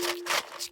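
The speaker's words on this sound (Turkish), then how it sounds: "Aldım elime ikinci kutuyu böyleymiş sesi" A brief burst of rattling as a small box is shaken back and forth a few times, with a steady faint hum underneath.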